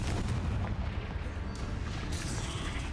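Confringo blasting spells explode repeatedly during combat in Hogwarts Legacy, a loud, continuous barrage of booming bursts layered over dense rumbling battle noise, with no pause across the stretch.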